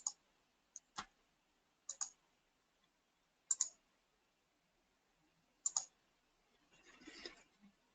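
Sharp, isolated computer mouse clicks in a quiet room, a few single and double clicks spaced over several seconds, followed by a brief soft rustle.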